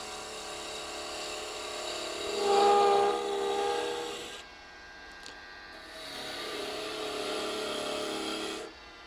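Wood turning on a lathe gives a rubbing, scraping cut with a faint tonal whine, swelling louder in two long passes separated by a quieter pause.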